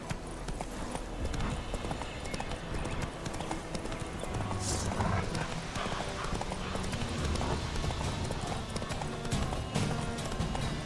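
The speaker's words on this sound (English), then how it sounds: "Come on, Roach." Horse hooves clip-clopping at a steady galloping pace in The Witcher 3 game, continuous and fairly loud with a brief whinny, no talk over it.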